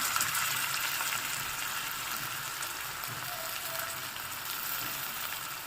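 Washed dal is fried in a pan with a methi mixture, producing a continuous, even sizzle at moderate loudness that holds steady from start to finish with no voices.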